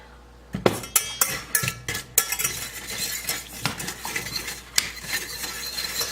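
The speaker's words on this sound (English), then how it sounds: "just keep stirring" A utensil stirs vegan caramel sauce in a pot, giving a string of scraping strokes and light clinks against the metal, close and fairly loud, with a faint sizzle underneath.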